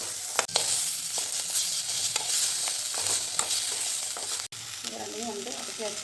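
Coconut, tomato and lentils for a Tamil paruppu chutney sautéing in a pan, a steady close sizzle with scattered stirring clicks and scrapes running throughout, no talk.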